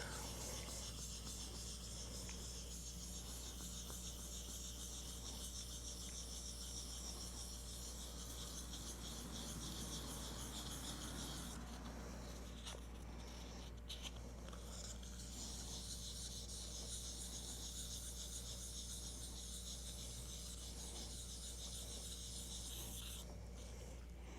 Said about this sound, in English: That right there is about as far as I'm willing to go with the sandpaper.